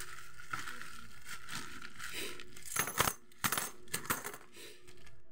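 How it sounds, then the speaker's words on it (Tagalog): Old coins, including one-peso pieces from a collection, being handled, with a few soft clinks early on and then a close cluster of sharp metallic drops and jingles in the middle and latter part. "nakolekta guys ng mga barya"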